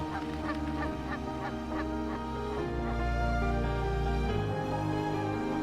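Geese in an Alberta wetland honk over and over in a busy chorus, mixed with quacking ducks, against a steady low background hum and with no voices.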